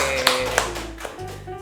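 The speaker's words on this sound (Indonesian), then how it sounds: "Kita tepuk tangan juga untuk Medivka dan juga BEM." A few people clap together at the close of a podcast episode, a short burst of sharp hand claps with voices talking over them.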